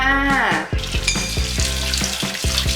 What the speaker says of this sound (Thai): แล้วก็ถึงขั้นตอนล้างน้ำเปล่านะคะ ให้เด็ก ๆฝึกล้างจานนะคะ